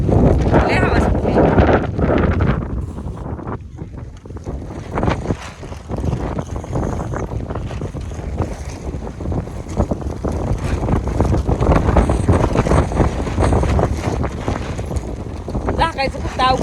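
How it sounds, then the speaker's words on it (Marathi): Strong wind blows outdoors on a farm, buffeting the microphone in loud, continuous gusts with rustling, while a voice speaks now and then underneath. "लय हवा सुटली."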